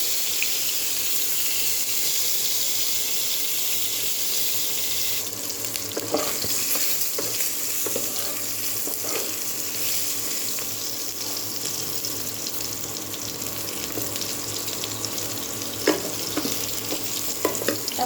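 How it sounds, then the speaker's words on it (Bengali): Eggplant and pointed gourd fry together in a roomy pan, making a continuous close sizzle and crackle with occasional stirring clatter and utensil taps, and no talking. "আমি পটলটাও এর সঙ্গে দিয়ে দেবো বন্ধুরা, অনেকটা জায়গা আছে, পটলটাও ভাজা হবে।"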